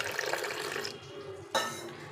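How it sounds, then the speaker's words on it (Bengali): Red lentils rinsed with water in a bowl, a short close splash and swish of running water, easing off, then a brief second slosh. "এটা ভালো করে জল দিয়ে ধুয়ে নিতে হবে।"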